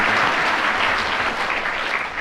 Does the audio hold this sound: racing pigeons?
no